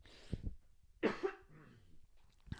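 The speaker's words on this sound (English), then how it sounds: "Back to back, like yawn and a cough" A few close coughs, one short pair followed by a louder rasping cough, with soft breathing between and no talking.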